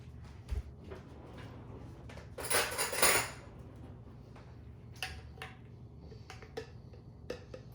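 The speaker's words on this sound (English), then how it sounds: "Go grab me a spoon." Metal cutlery and a spoon clink against dishes in a home kitchen while desserts are made, with a brief louder rattle in the middle and scattered light taps, quiet and close by.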